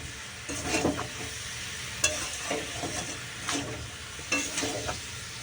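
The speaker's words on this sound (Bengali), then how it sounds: "দিয়ে দিলাম লঙ্কার গুঁড়ো এবার এটাকে ভালো করে কষবো" Chili powder masala frying in a pan while a spoon stirs it, giving a steady sizzle broken by repeated scraping strokes at an uneven rhythm, close and moderately loud, with no talking.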